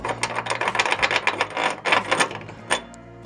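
Ratchet wrench clicking as a bolt is tightened on a tow hitch being fitted to a Nissan Leaf, a rapid series of close mechanical clicks in uneven bursts with short pauses.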